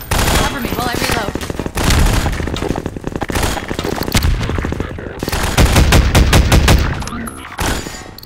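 Gunfire in Half-Life 2: Episode One: loud, dense volleys of rapid automatic shots and bursts, nearly continuous and very close, with shouted speech mixed in.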